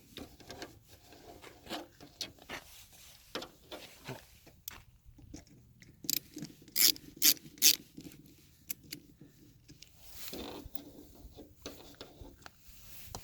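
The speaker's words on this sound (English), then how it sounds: "I'm gonna start removing these 2 bolts, or not really bolts, they're just screws. Let's loosen them both up equally." Tail light screws on a Hummer H3 are loosened by hand with a screwdriver, making quiet rubbing, scraping turns and a short cluster of sharp squeaky clicks midway, close and alone.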